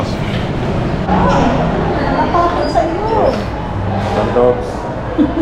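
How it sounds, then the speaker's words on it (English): Small feisty dog behind a glass pane outside a shopping centre near Manila Cathedral, yapping and whimpering in short bursts through steady crowd chatter and street noise. "Oh, feisty dog. Look how tough the dog is behind glass."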